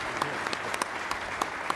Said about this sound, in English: please join me in a round of applause for this outstanding time